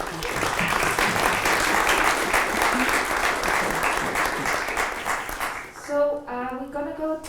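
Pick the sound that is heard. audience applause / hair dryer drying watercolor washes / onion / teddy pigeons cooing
audience applause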